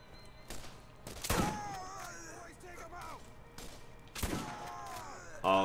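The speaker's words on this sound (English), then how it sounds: "Dude, shotguns in this game are good." Two heavy shotgun blasts in the video game Borderlands ring out a few seconds apart, each a loud, sharp boom over a continuous game soundscape, while someone talks throughout.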